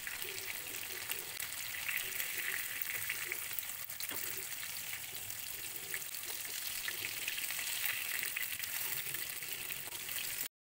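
Kerala style fish fry sizzling in hot oil in a pan, a steady close crackling hiss with soft popping bubbles throughout, no talking, cutting off abruptly at the end.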